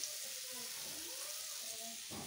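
Sugarcane frying in a pan during a farm family's Nabanna harvest festival gives a faint, steady hissing sizzle, with a few soft tonal sounds drifting through.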